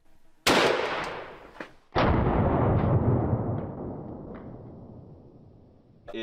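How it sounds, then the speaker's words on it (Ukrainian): Two loud gunshots from a Serbu rifle firing .50-caliber SLAP rounds ring out about one and a half seconds apart, each with a sharp crack followed by a long rolling echo that slowly fades. "Постріл."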